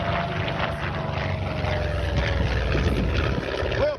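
A P-51 Mustang propeller fighter at an air show in Vanderhoof, British Columbia, its piston engine droning steadily and loudly as it passes, with a brief pitch shift near the end.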